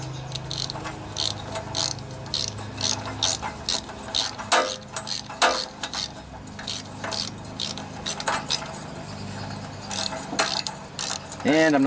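Bolts being tightened by hand on a Briggs and Stratton OHV Intek engine, giving repeated close metallic ratchet clicks and tool clatter over a steady low hum.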